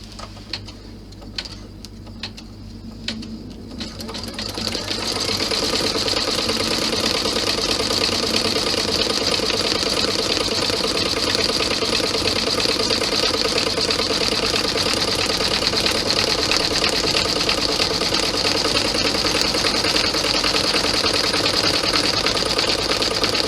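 A home embroidery machine stitches a 5x7 in-the-hoop golf ball bag with white thread, its steady rapid needle clatter running continuously and fairly loud after a few seconds of quieter handling noises.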